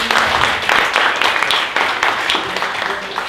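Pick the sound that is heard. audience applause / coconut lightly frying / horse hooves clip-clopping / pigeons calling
audience applause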